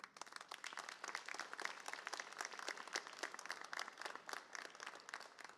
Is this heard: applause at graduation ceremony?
yes